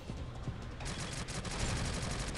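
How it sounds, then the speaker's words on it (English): SMG fire in the mobile shooter Shadowgun Legends: a sustained, dense stream of rapid automatic shots that grows louder partway through, with no speech over it. "I thought I needed that sniper rifle to get him down, but I was able to get close enough with my SMG"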